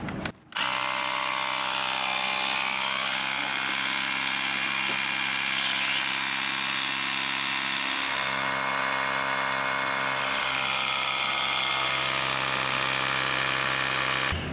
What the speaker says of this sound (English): The little compressor actually shot a lot of stuff out